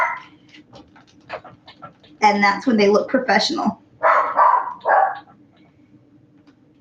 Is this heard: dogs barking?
yes